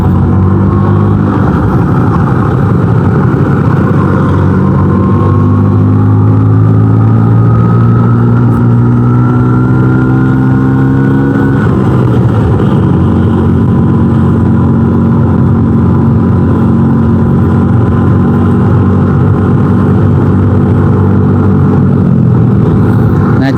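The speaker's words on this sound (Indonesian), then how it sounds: "Ya standar motor 2 tak lah, setiap masuk gigi pasti punya gentakannya." A small two-stroke Vespa scooter engine drones loudly close by, its pitch climbing under acceleration, then dropping with a jolt at a gear change before rising again.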